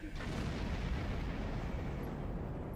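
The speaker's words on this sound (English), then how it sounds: "Give them both pulse cannons." Pulse cannons fire in a Star Trek space combat video game, a sudden low booming blast that fades into a rumbling tail, heard fairly quietly.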